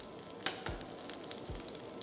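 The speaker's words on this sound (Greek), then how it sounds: "Όσο τηγανίζεται και η δεύτερη τηγανιά με τους κολοκυθοκευτέδες μας" A second batch of zucchini fritters fries in oil in a pan, giving a quiet, steady sizzle with a few soft crackles and pops and no talking.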